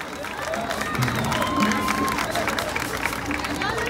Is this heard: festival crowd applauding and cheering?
yes